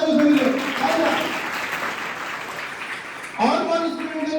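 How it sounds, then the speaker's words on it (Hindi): Classroom of students clapping loudly during a board-exam preparation session, a dense burst of applause with voices and cheers mixed in, easing slightly before swelling again near the end. "अपनी ये जोरदार ताली बजा दो सभी लोग"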